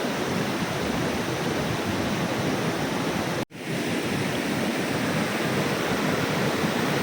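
A mountain stream rushes below an upper waterfall tier, with a steady, dense broadband roar of flowing water that stays loud and close throughout, broken only by a momentary dropout midway.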